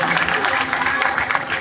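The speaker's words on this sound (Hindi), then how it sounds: "अगर मेरी बात सच है तो ताली बजा करके मेरी बात का समर्थन करिएगा।" Audience at a Navratri festival in Sidhi clapping in support, a brief burst of dense, lively applause mixed with crowd noise.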